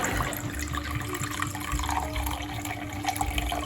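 Wine poured into a chicken stew pot for a French chicken fricassee gives a steady liquid trickle and splash over a low kitchen rumble, close and continuous with no talk.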